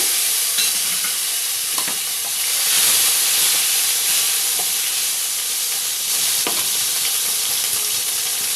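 Whole cumin seeds and chopped tomato fry in a pan as part of a paneer dish, producing a loud, continuous sizzle and hiss with a few faint clinks. No one speaks.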